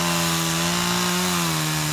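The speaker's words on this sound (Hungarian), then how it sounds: "A vastagabb bozót írtására még láncfűrészt is bevetettek a munkások" Chainsaw cutting through thick brush during park clearing work, a steady droning engine whine held at constant pitch for two seconds with a rough sawing edge, fairly loud and close, no voices.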